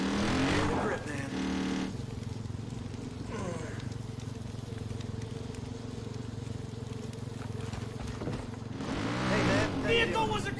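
Engine of a vehicle being driven in the video game Far Cry 5, a continuous droning rumble with shifting revs, heard under voices and louder bursts at the start and end.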